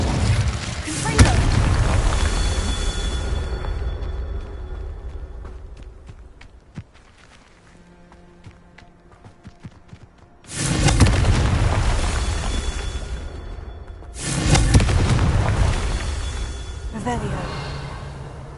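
Confringo explosive spells burst in the Hogwarts Legacy video game: two loud, sudden blasts with rumbling tails, one around the middle and another shortly after, following a quieter stretch of footsteps and faint crackling.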